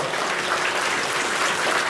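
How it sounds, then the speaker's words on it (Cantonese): Warm, sustained applause from an audience at a dance event, steady clapping filling the whole two seconds without a break. "係咁希望大家咧再俾熱烈嘅掌聲咧，我哋呢個專業嘅團隊"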